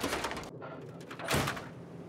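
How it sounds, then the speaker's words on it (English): A door in Fallout 3 is unlocked and pushed open, a short mechanical clunk followed by a lower sliding rumble, heard up close with a second swell of movement near the end and no talking. "I'll unlock the door."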